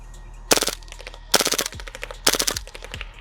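A G&G SMC-9 gas blowback airsoft pistol-carbine SMG fires full auto in three short, rapid bursts with pauses between them, sharp and close, with no talking.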